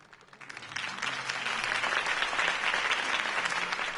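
Crowd applause follows a campaign speech in the Telltale Batman video game, rising quickly from quiet into a dense, sustained wash of clapping that continues at steady loudness.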